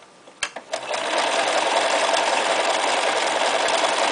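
A Bernina 1230 sewing machine running a stretch stitch, with a few clicks and then a steady, close, rapid mechanical whir that carries on to the end.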